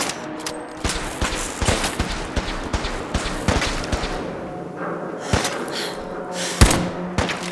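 Repeated gunfire in Fallout 4, sharp shots and short bursts cracking irregularly over a busy game soundscape with thuds and impacts in between.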